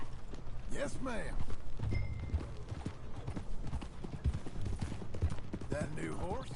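Rhythmic clip-clop of galloping horse hooves in Red Dead Redemption 2 runs steadily throughout, with a horse snorting or whinnying near the start and end.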